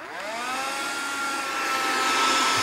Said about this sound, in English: the vacuum is operated by this little button here